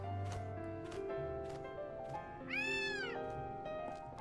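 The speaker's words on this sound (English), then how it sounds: "now we got our cat Dusty." A cat meows in the video game Gravity Rush, one clear rising-and-falling meow standing out midway over a steady layer of game music and ambience.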